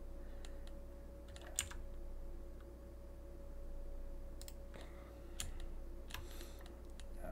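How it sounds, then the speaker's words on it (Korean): Computer keyboard keys are pressed while working in Blender 2.83, a few scattered soft clicks and taps spread over a steady low room hum, fairly faint and close. "이 상태에서 키보드의 G키를 눌러서 얘를 앞으로 당김"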